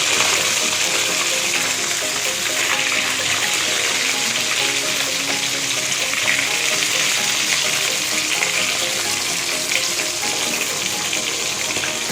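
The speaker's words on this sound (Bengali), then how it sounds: "আমি কড়াইতে সব মাছ দিয়ে দিয়েছি, একটু ভালো করে ভেজে নেব।" Bata fish fry in hot oil in a kadai, a loud and steady crackling sizzle that runs unbroken close up, with no voices.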